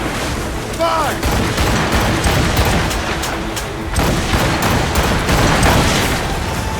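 Ship cannons in Assassin's Creed Rogue fire as a dense naval broadside, a continuous rolling barrage of booms and blasts that stays loud throughout, with no talking.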